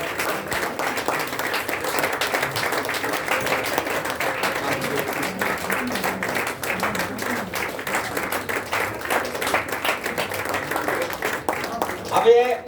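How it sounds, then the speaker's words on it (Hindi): Long stretch of audience applause at a seminar, dense and steady hand clapping from a crowd, with some voices mixed in and a brief louder swell near the end. "आज हम तालियां बजाएंगे तो कल हमको भी तालियां मिलेंगी"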